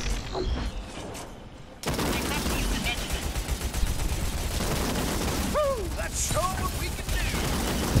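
Gunfire striking the player in the online shooter Crucible: rapid bursts of shots rattle continuously over ambient game noise, with a few chirping effects partway through.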